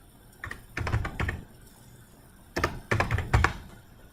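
Bursts of typing on a computer keyboard during a spreadsheet lesson, two clusters of rapid clicky keystrokes separated by a quiet pause, close and fairly clear with no voice over them.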